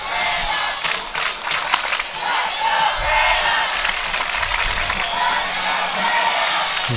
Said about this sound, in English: the Brenham crowd's still in it, getting the chant, "Let's go Brenham."